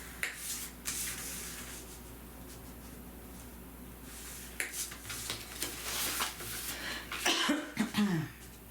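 Several faint coughs and throat-clearing sounds come up over quiet rustling and handling noises. No speech.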